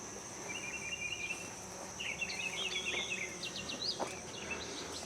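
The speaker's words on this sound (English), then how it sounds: "There's a few honeybees in there with them now." Honeybees and other insects hum faintly among sweet corn plants in a garden, a thin, steady buzzing with brief louder passes close by, no talking.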